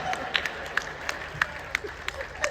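Scattered, light clapping from a small audience at a Hindi poetry recital (kavi sammelan), irregular sharp claps rather than full applause, fairly quiet.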